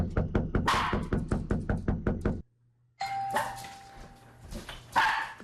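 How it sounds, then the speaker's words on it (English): Rapid, even knocking on a door, about a dozen raps, then after a brief pause a doorbell chimes, mixed with some rustling and a dog's bark. "Watch what happens when we knock on the front door and ring the doorbell."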